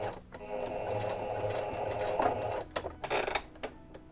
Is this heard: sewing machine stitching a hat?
yes